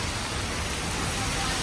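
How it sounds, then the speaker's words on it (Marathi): A heavy downpour makes a loud, continuous wash of rain noise, close and unbroken for the short stretch. "ये देखो बहुत कोसल गया है पाऊस."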